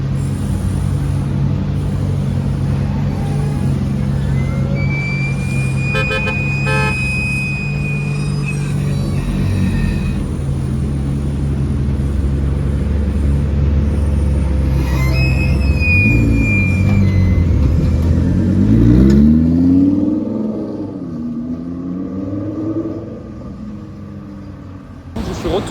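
A Ferrari 296 GTB sits running on a Monaco street, its engine giving a loud, steady, deep rumble with a brief rise near the end, while nearby voices talk over it.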